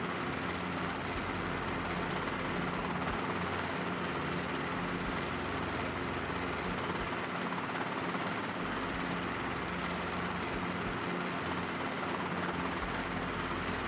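A Robinson R22 helicopter holds a low hover of about ten to fifteen feet near the end of a runway, its rotor and engine making a steady, unbroken drone heard from inside with no talking.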